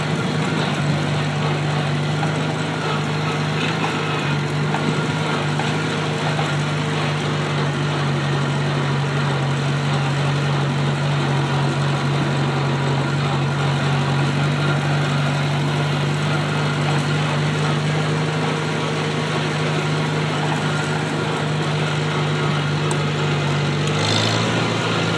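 A Farmall Cub tractor engine idles steadily nearby, a constant low throbbing hum with a little vibration that barely changes, then a brief clatter right at the end.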